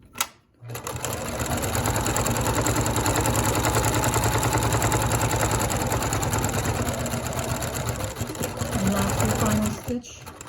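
A sewing machine stitches a surgical mask in one long, fast, steady run of needle chatter, close and loud, pausing briefly at the start and near the end, while someone talks over it.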